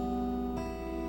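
Fingerpicked acoustic guitar notes ring out clearly and sustain, with a fresh plucked note joining halfway through the short phrase; no voices.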